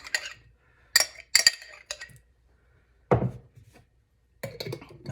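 A spoon scraping and clinking in a bowl while mixing spaghetti sauce with salsa for taco flatbread minis, a handful of separate, close, sharp clinks with quiet gaps between them and no talking.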